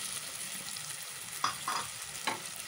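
Chopped potatoes frying in a pan for fried rice, a steady close sizzle with a few brief scraping strokes of a utensil, no voices.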